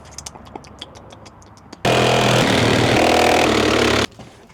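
A power saw blade cuts through the metal of a junk motorhome, a loud, harsh, continuous grinding roar of about two seconds that starts abruptly and stops abruptly, following a few light metallic taps and knocks.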